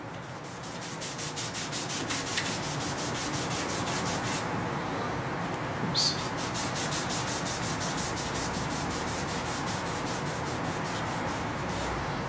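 Microfiber towel soaked in lacquer thinner rubbing powder coating overspray off a part in a booth, with a steady, close scrubbing sound lasting throughout.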